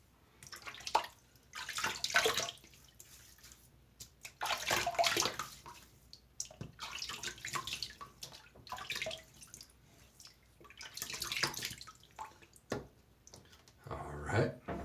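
Water runs from a tap and splashes in a basin while cheeks are wetted before shaving after a shower, in intermittent close bursts of splashing and dripping separated by brief pauses.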